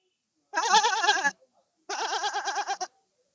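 A voice imitates a nanny goat bleating in two long, wavering, quavering calls with a short gap between them, close and clear in an otherwise quiet room.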